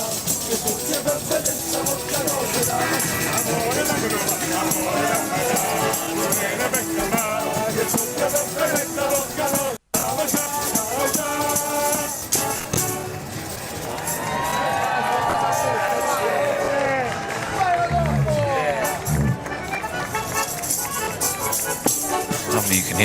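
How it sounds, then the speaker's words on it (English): A crowd cheers at a Rome New Year's Day parade of performers in traditional costume, a continuous busy roar with music and bursts of shouting, under someone talking over it. "you can hear cheers from the crowd there"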